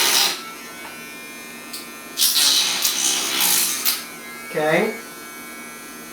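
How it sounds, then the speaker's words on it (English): A Dremel rotary tool buzzes in short, whining bursts as it wipes glue off a Technics part, with a brief spoken word between the bursts. "So we're going to take a Dremel and we're going to just go over here for a second,"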